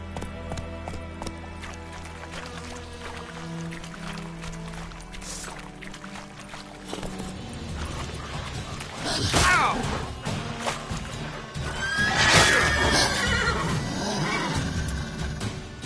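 A horse in The Witcher 3 picks up into a gallop, hoofbeats thudding under game music and ambience before two sharp neighs rise up close in the second half.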